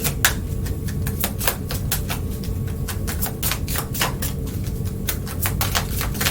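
Tarot cards are shuffled and pulled, making a quick run of sharp, crisp riffling clicks and snaps in uneven bursts, close up and clear over a low steady background hum, with no talking.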